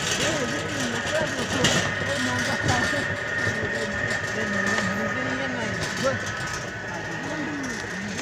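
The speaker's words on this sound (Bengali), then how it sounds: "এখন আমরা যাচ্ছি মোটর ভ্যানে" Motor van engine runs steadily while riding along a village canal route, a continuous low drone with rattling throughout, with people talking over it.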